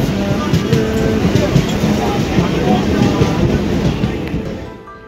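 A passenger train runs along at speed on an afternoon line in Hooghly, giving a loud continuous rumble with faint rhythmic clatter that fades slightly at the end, and a voice speaks over it.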